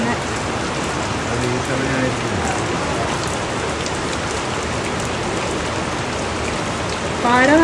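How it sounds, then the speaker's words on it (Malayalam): Very heavy rain pours down in a steady, close hiss and patter that fills the whole stretch, with a voice speaking briefly. "അതിശക്തമായ മഴ"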